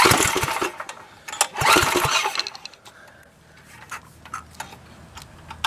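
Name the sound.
Tecumseh 8hp go kart engine starting and running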